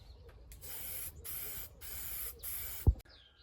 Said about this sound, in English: I'll show you how I start spraying here